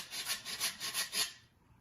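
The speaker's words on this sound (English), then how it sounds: "So another tool in sheetrock you have to use is called a rasp" A rasp files the edges of a sheetrock piece in about five steady, quiet rubbing strokes that stop abruptly, with no voices.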